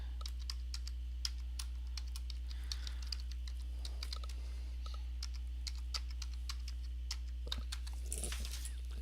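Payment details being typed on a computer keyboard: quick, light key taps in an irregular stream, close but quiet over a low steady electrical hum, with no voices.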